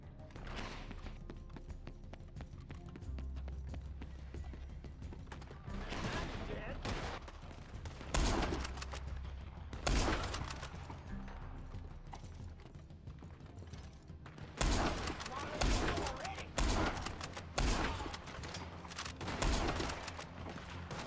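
Gunfire in a Christmas mansion shootout in Red Dead Redemption 2, with bursts of loud shots at irregular intervals over continuous game ambience and horse sounds.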